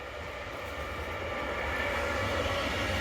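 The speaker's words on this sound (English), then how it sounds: "we're gonna just go to the train tracks real quick, just to look at it, because there's a train" A train passes on railway tracks with a steady, close rumble and broad roar that grows slightly louder across the few seconds.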